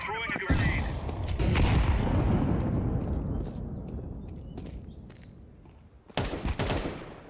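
Gunfire in the video game Counter-Strike: a sharp pair of shots followed by a long rumbling tail, then more shots near the end, loud and close.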